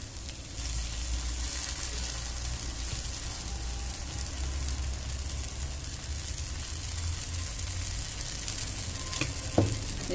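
Onion dosa batter sizzles on a hot pan at a roadside stall, a steady close crackling fry with a faint low rumble beneath and a small clatter near the end.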